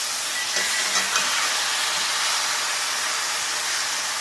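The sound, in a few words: ribeye steak sizzling after flip in Lodge cast iron skillet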